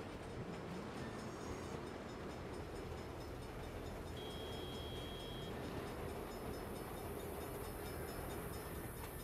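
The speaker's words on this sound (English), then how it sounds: "Crap. Bad time for a train." A train rumbles past in the video game Saints Row, a steady, loud, continuous roar with rail clatter running through the whole stretch and no one talking.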